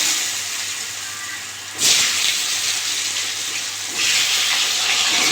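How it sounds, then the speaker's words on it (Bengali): Potatoes frying in a pan with salt and turmeric, a steady broadband sizzle that swells louder in two surges as the pan heats up, close and continuous with no talking. "আলুগুলো ভালো করে ভেজে নেবো"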